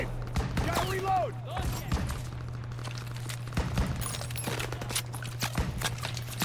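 Gunfire in the World War II shooter Call of Duty WWII, with rapid shots cracking over a steady low engine-like drone while a voice shouts orders.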